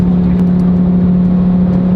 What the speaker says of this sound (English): Your car's really going.